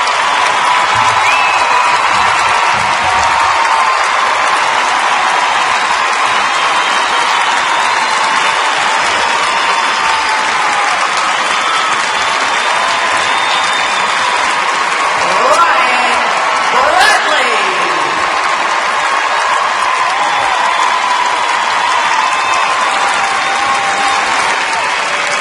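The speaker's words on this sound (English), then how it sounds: "And the crowd's on its feet here in Greensboro." A figure skating arena crowd in Greensboro gives a standing ovation for Ryan Bradley's short program, with loud, sustained applause and scattered cheers and whoops filling the full length.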